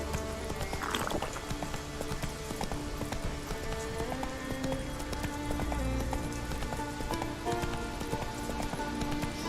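Roach, the horse in The Witcher 3: Wild Hunt, gallops with steady rhythmic hoofbeats under a bed of game music and ambience, moderately close and continuous throughout.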